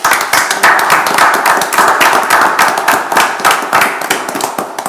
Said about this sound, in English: we need to applaud what they have all done